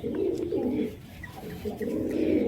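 Pigeons coo in low, rolling phrases, several overlapping calls repeating steadily throughout, close and fairly loud with no talk.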